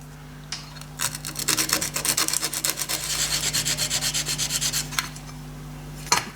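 A sanding belt grinds a small metal part for a DIY art deco wall sconce, with steady rhythmic rubbing strokes close up, followed by a sharp knock.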